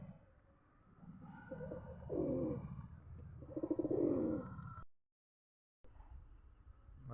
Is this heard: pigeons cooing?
yes